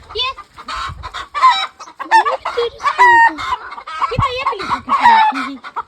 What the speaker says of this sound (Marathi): आता कोंबड्या तिच्या मारायला लागल्या.